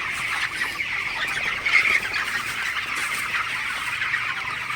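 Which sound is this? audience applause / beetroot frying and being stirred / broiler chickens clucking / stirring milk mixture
broiler chickens clucking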